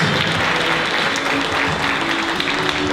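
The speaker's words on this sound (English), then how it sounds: "so don't stop the applause" A live audience claps continuously for a guest's entrance at a fan panel event for the series Knots Landing, dense and loud applause holding steady throughout.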